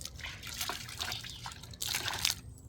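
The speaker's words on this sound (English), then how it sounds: "I'll take my microfiber towel. I will wring it out," Water runs and drips from a wrung-out microfiber towel during a car wash, a faint uneven trickle with soft splashes and a brief stronger splatter near the end.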